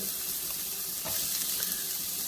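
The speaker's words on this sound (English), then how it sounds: "the pan is back on the heat, I'm just going to grab my onion in the same pan, pop the onion in." Onion frying in a hot pan already used for beef stroganoff, a steady close sizzle with a couple of faint stirring touches, no voices.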